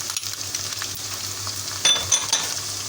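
Onion frying with garlic, ginger and green chili paste in a pan over low heat: a steady, soft sizzle with a few brief clinks and scrapes of stirring near the end.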